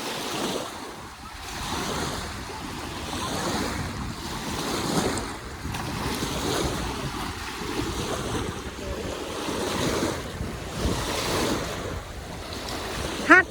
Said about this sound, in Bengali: ওরে বাবা ভালো ঢেউ আসতেছে তো